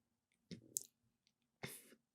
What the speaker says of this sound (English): excuse me, just had to clear my throat.